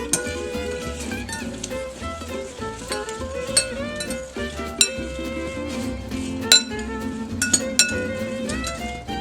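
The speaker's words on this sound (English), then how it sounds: "Sprinkle it onto the apples, and then all you need to do is mix it up." Apple pieces tossed with cinnamon sugar in a bowl produce irregular clinks and clatters of a utensil against the dish, over a soft music bed.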